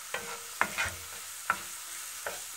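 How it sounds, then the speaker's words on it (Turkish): Chopped small peppers and onions fry in a pan while a utensil stirs them, giving a few sharp scraping knocks over a faint, steady sizzle, with no talking. "Karıştırıyoruz."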